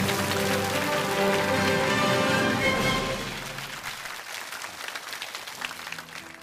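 An audience breaks into loud, sustained applause welcoming an academician to the stage, the clapping dense at first and then thinning to scattered claps.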